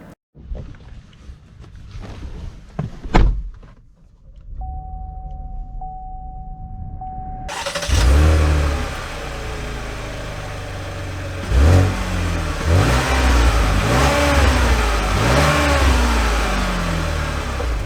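A 2022 Chevy Blazer RS SUV pulls away and drives on, engine noise and road rumble rising and swelling steadily after a short quiet stretch, loud and close from inside the cabin.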